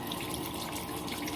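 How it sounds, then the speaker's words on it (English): Tap water runs in a steady, even stream while a bar of Zote soap is rinsed, close and moderately loud throughout, with no voices. "I'm gonna just like try to rinse it off"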